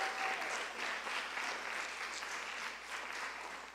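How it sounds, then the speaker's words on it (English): Audience applause for National French Honor Society inductees at a chapter ceremony, a moderate, steady wash of clapping heard from a distance, continuing evenly throughout. "If we could give everyone a round of applause."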